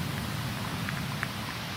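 Steady rain falling during a surf contest in Tahiti, a constant broadband hiss of drops with a few faint patters, no voices.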